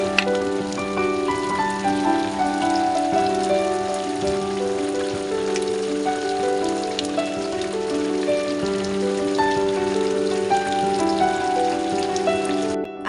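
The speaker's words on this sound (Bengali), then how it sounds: "আর এরই মধ্যে কিন্তু প্রচুর পরিমাণে বৃষ্টিও চলে এসছে আমি বাড়ি আসার পরে" Heavy rain pours steadily and loudly outside a new house under construction, a dense continuous wash of drops with no voices.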